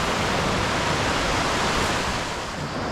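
A river in the Lake District rushes in a dense, steady wash of flowing water, loud and close, with no voices over it.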